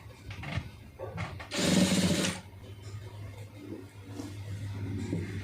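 A sewing machine stitches a blouse seam in one rapid, steady burst lasting under a second, set against a low, constant background hum.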